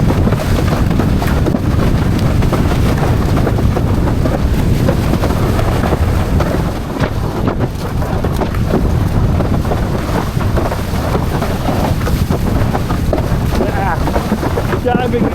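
Strong wind roars and buffets the microphone nonstop while windsurfing on an FMX Veloce 122 freeride board at sea, a loud, dense rush with water noise beneath it.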